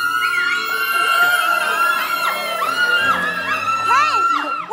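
Women in a studio audience at a morning TV variety show scream and whoop continuously, loud shrill voices overlapping with crowd cheering throughout.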